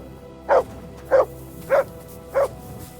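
Dog in the video game Kingdom Come Deliverance 2 gives four evenly spaced single barks, close and clear, about half a second apart.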